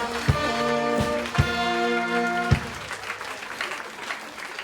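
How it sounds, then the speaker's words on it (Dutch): Applause from a full hall at a youth carnival competition for comic speech, dance and parody, sustained clapping with a few loud sharp claps up close, fading toward the end. "laat iemand een geweldig applaus geven van de ganse zaal"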